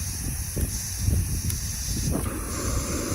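Gas hissing from a small folding camping stove burner as the control valve is opened outdoors, a steady close hiss with faint rustling and light handling knocks.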